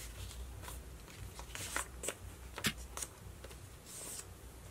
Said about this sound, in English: You're going to fold corner to corner and make it a nice seam